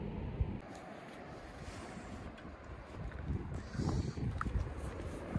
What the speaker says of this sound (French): Toujours du vent, hein, vous l'entendez dans la vidéo.